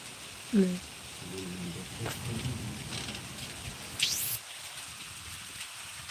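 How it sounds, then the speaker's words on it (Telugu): Heavy rain falls near a home in Kashmir, a constant hiss under a few brief voice-like sounds and a short rising tone, easing toward the end. "ఇలా చూసారా ఎంత వర్షం పడుతుందో"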